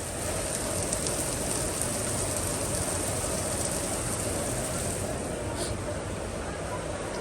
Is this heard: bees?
no